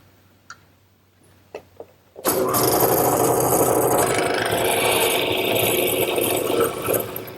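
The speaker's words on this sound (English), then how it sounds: "as the drill press pushes down, the drill will start the hole and the chisel will square it up" A drill press fitted with a hollow mortising chisel bores square mortises into the top rail of a wooden garden bench: a few light taps, then loud continuous grinding and rasping as the bit chews through the wood.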